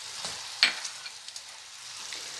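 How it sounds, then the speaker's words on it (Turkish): Artichokes sauté in olive oil in a pan with a soft, faint sizzle, and a spoon stirring makes a sharp clink followed by a few light scrapes. "haşlayıncaya kadar bir 5 dakika bu şekilde kavuruyoruz"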